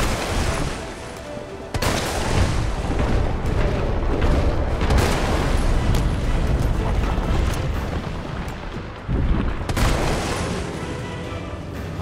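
Sustained heavy gunfire and booming impacts in Resident Evil 3 Remake as a player shoots at a boss's glowing weak spot, loud and dense with brief pauses between bursts.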